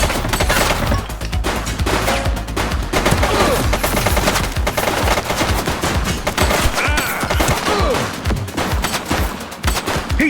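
Gunfire in the police video game The Precinct: rapid, loud bursts of automatic shots and fusillades continue densely throughout, with sharp cracks overlapping.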